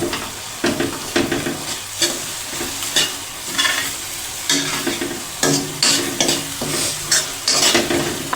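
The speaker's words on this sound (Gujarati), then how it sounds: "અને એને સતત ને સતત હલાવતા રહીશું।" A spoon stirs and presses moong dal fry in a pan over a low flame, giving repeated scraping strokes over a steady sizzle that runs the whole time, near and fairly loud, with no talk.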